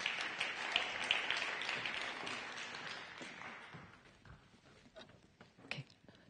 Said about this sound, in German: Donnernder Applaus.